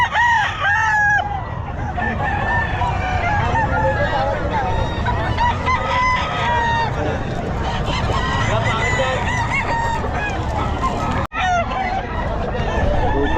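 Several ball stags crow repeatedly at the Bocaue pet market, overlapping calls near and far amid clucking, honking and constant crowd chatter.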